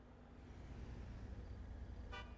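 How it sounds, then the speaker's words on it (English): A car horn in the GTA 5 video game gives one short toot near the end, sounding over a steady low engine hum and traffic rumble. "We honk."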